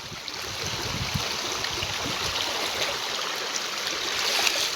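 Runoff from rain-soaked fields in Surai village pours along like a small river, a dense, unbroken watery rush that swells slightly toward the end, heard alone without talk.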